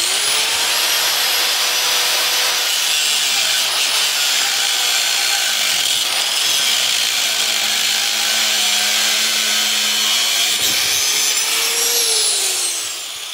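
A saw making a long cut through half-inch steel rebar, a loud continuous high-pitched grinding whine that holds steady and close throughout, with the pitch shifting slightly as the cut finishes.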